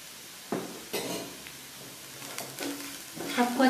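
Semolina mixture seasoned with red chili powder and salt is stirred in a pan for suji pitha, heard as quiet intermittent scrapes and soft clinks over a light background sizzle.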